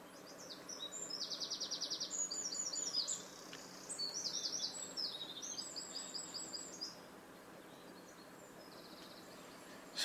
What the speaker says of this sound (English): I think we can hear some birds in the wood.